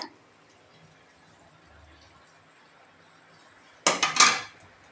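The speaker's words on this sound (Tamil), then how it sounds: "சாதத்தை போட்டு கிளறிக்கலாம்" Cooked rice being stirred into a pot of lemon rice, first a faint scrape at the start, then after near-silence a short cluster of loud metallic clanks and scraping from a spoon against the vessel near the end.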